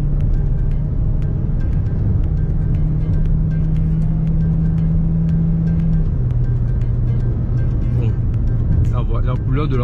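A green car in sport mode gives a steady, loud engine drone from inside the cabin, its pitch holding steady and then dropping slightly partway through, with a voice speaking near the end.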